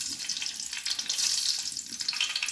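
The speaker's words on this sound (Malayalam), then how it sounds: "ചൂടായ വെളിച്ചെണ്ണയിലേക്ക് നമ്മൾ അല്പം ഉലുവയാണ് ഇടുന്നത്" Fenugreek seeds frying in hot coconut oil, a steady close crackling sizzle with bright spitting bursts throughout, no talk.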